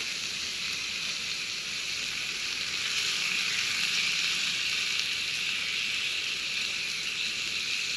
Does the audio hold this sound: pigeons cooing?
no